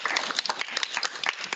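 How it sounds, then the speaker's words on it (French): Audience applause for author Ariane Bois at a prize-giving ceremony: a short burst of dense, moderately loud clapping from a crowd, with no talking. "nous pouvons donc l'applaudir"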